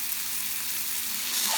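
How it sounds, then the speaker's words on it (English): A sample of Medisterpølse sausage fries in a pan, a steady close crackling sizzle that goes on without a break for under two seconds, with no talking. "And I'm frying my sample."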